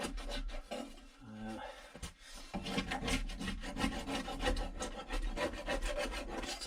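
A scraper rasps seam sealer off the body plate of a Peugeot 205 GTi Mi16 in a garage. Steady, close, gritty scraping runs almost without a break, with short strokes that rise and fall and no voices.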